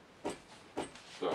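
A Krups XP5200 pump espresso machine's steam wand lets out three short, separate hissing bursts, each rising sharply and fading, close by with no voices.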